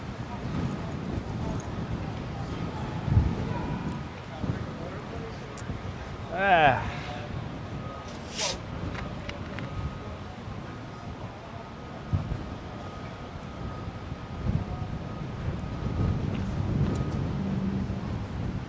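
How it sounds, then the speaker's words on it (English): Steady wind buffeting the microphone outdoors in Lower Manhattan, New York City, a low rumbling roar throughout with brief louder gusts and faint voices underneath. "It's really windy. Can you tell?"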